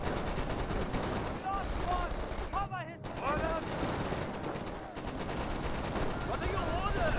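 Rapid machine-gun and rifle fire in the World War II strategy game Company of Heroes, dense continuous bursts filling the clip with a few whistling shell sounds overhead.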